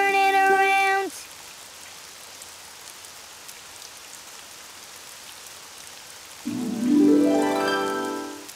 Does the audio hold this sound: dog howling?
no